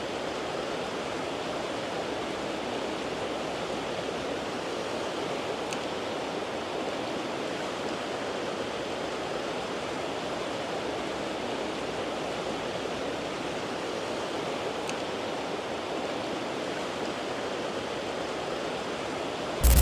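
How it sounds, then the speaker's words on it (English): A river runs past a cabin in soft currents broken by small waterfalls and pockets of foaming white water, a steady, even rush of water that holds unchanged for the whole stretch with no voices. "The river is calm but restless, flowing past the cabin in soft currents broken by small waterfalls and foaming pockets of white water"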